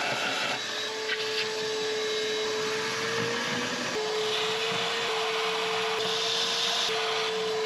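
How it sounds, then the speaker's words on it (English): A vacuum cleaner sucks up spilled coolant and debris during repair work on a neglected luxury SUV, a steady close whining drone with a sustained tone that shifts slightly in pitch as it runs continuously. "I'm gonna vacuum up all the coolant and all the debris that's over there"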